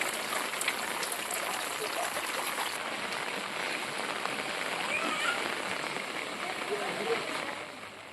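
Heavy, continuous rain pours over Madurai as a dense, steady hiss of drops that barely changes and fills the whole stretch, easing slightly at the very end.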